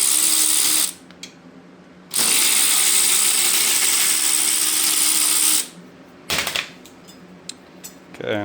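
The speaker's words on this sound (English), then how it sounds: "just snug up your ratchet strap" A ratchet strap cinched tight during a mini bulkhead install, sounding as loud, close bursts of rapid ratcheting clicks, two long runs separated by pauses, with scattered clicks trailing off at the end.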